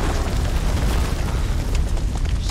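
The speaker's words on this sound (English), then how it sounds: "Grenade!" Grenade explosion in the video game House of Ashes: a loud, sustained rumbling boom that fills the whole stretch with dense low roar and debris noise.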